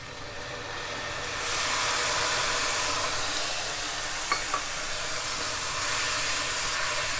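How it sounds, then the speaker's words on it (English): Sherry poured over mushrooms in a hot pan to deglaze them hisses up into a loud, steady sizzle that holds after a quieter start, with a couple of brief clinks partway through. "We're going to deglaze and let it cook down"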